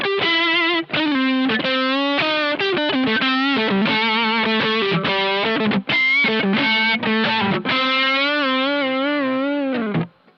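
Overdriven electric guitar on the neck pickup through a Nux XTC overdrive pedal modeled on a Bogner Ecstasy red channel; a loud, saturated melodic lead line with sustained, bending notes and short pauses, played alone.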